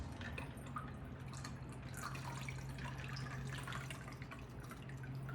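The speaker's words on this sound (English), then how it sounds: "We will pour our cocktails into these deep champagne coupes." Martini cocktail poured through a strainer top into deep champagne coupes, a steady close trickle of liquid running continuously with no pause and no talking.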